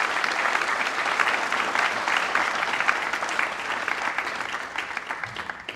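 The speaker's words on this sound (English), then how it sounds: "Round of applause." An audience at the Monitorama conference applauds a speaker with steady, dense clapping that holds fairly even for several seconds and stays moderately loud.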